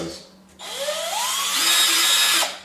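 A BLACK+DECKER 20V Max cordless lithium-ion drill on its drilling setting whirs up from quiet to a loud, steady whine, its pitch climbing as it speeds up, holds for about two seconds, then cuts off.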